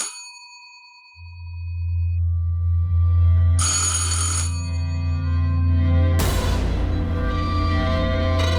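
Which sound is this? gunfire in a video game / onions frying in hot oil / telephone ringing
telephone ringing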